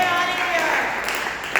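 Lively audience applause at a student confirmation retreat in an HKBP church, a dense, loud burst of clapping that continues briefly under the room's noise.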